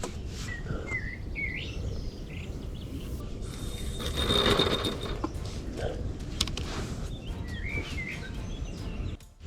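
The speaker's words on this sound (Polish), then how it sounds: "Ptaszki śpiewają" Small birds chirp and trill intermittently at a moderate distance over a low, rumbling outdoor background, with a brief louder swell of noise midway.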